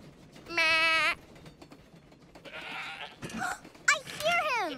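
Human voices imitate goat bleats with a few nasal "meh" cries in a row, mixed with other voices and background sound from an animated children's train show.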